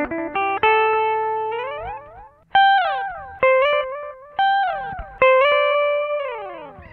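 Guitar chords run through an Ibanez ADMINI analog delay pedal, each strum ringing out and trailing off in soft repeating echoes that decay and pitch-bend slightly, with several distinct chord hits in a steady rhythm and no talking.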